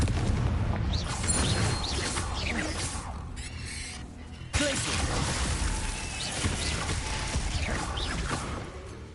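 A Confringo blasting spell detonates in Hogwarts Legacy: a sudden explosive burst near the middle, surrounded by dense whooshes, crashes and clattering combat effects from the game.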